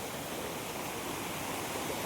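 A river near Mahogany Falls in Dingalan, Aurora rushes in a steady, dense broadband roar of flowing water, close and continuous with no voices.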